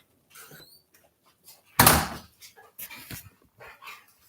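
Puppies yapping outdoors, with a sharp loud bark burst in the middle amid scattered smaller yelps, whimpers and shuffling noises.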